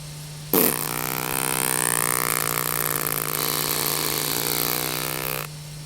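A didgeridoo played with circular breathing drones for about five seconds, a loud, close, unbroken buzzing tone with rich overtones that holds steady without a pause for breath, then stops.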